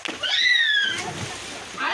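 Boys bathing in a village well on a hot summer day, their splashes and sloshing water ringing close by in the open well, with excited voices calling over the bathing throughout.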